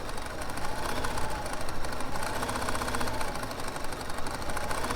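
A sewing machine quilting a Celtic design runs fast and continuously, a close, even mechanical whir with no pauses and no speech.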